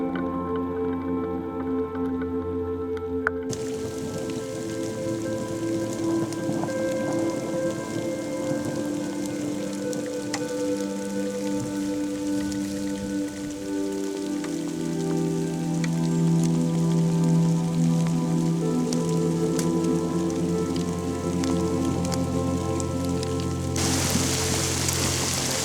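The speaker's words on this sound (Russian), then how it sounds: "Начало капать." Rain beginning to fall in the countryside outdoors as a storm approaches, a steady soft patter and drip holding evenly under a constant background hum, with no voices.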